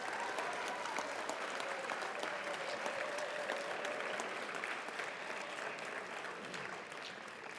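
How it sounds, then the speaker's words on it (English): Continuous applause from the audience at a high school awards ceremony, a thick, even rattle of many hands clapping at moderate level without a break, thinning slightly toward the end. "Let's give them a round of applause."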